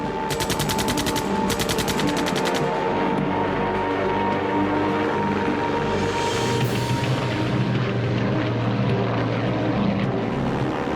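A German WWI fighter plane's propeller engine drones loudly and continuously during an attack, with rapid bursts of machine-gun fire crackling in the opening seconds.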